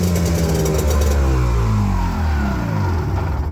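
An engine on an old mini jetboat runs loud and steady nearby, its pitch sliding up and down as the throttle is opened and eased, then it cuts off abruptly at the end.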